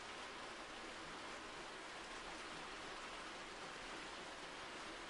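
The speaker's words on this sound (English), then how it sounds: "I want the rain to be there, but not overbearing" Steady rain ambience laid as a background effect for a tabletop horror role-playing session, a constant broadband hiss of falling rain at even, moderate loudness with no voices throughout.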